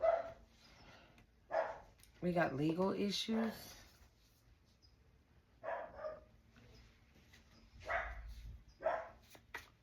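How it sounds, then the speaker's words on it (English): A dog barks a few times in short bursts indoors while a person talks over it, the barks moderately loud and near. "My dog's barking, y'all."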